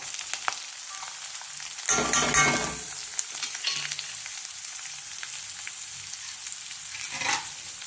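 Onion sizzles in hot oil with asafoetida, mustard seeds and cumin, a steady crackling fry with a louder burst of spattering early on and occasional stirring scrapes. Nobody speaks.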